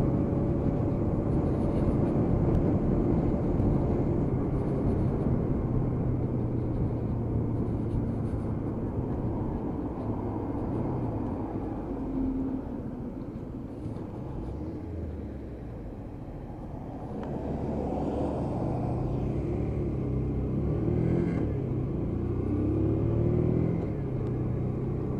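Small single-cylinder Lexmoto Michigan 125cc motorcycle engine droning steadily while riding on a damp road, with wind rush, a brief dip in the middle and the note rising again.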